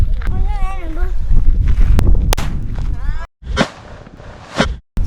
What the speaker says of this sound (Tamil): இது வந்து ஒத்த வெடின்னு சொல்லக்கூடிய வெடி இது